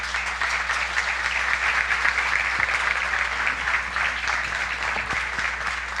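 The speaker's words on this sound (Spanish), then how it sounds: "Un aplauso." Sustained audience applause fills a university debate hall in Barranquilla, a steady dense wash of many hands clapping at moderate loudness throughout with no break.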